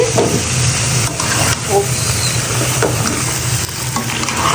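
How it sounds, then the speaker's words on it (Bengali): Chopped bottle gourd curry with spices being stirred in a hot pan, giving a continuous loud sizzle with scraping of the spoon throughout. "ভালো করে নাড়িয়ে দিচ্ছি"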